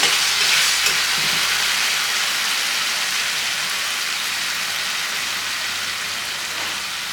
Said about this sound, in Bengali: এই চালটা দিয়ে ভালো করে নাড়াতে হবে